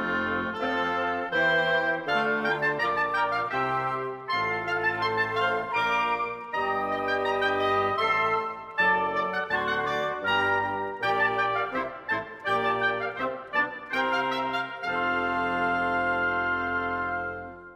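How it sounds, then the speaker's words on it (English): Several woodwind instruments play together in a flowing ensemble passage, layered melodic lines over lower sustained notes, steady and full without voices. "Together, the woodwind section sounds like this."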